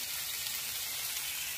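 Food frying in a pan, a steady close hiss and crackle of sizzling oil, continuous and even throughout.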